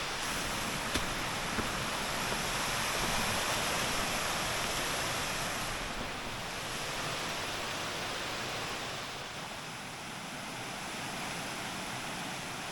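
Steady, dense rushing of a waterfall on a trail at Savage Gulf, Tennessee fills the scene, a constant broad roar with no talking.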